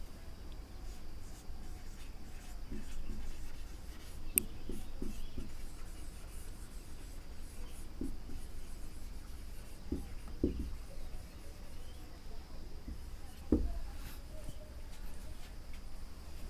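A marker or chalk scratching across a board during an English grammar lesson, faint squeaky strokes and taps scattered over a low room hum, with a teacher's voice heard quietly.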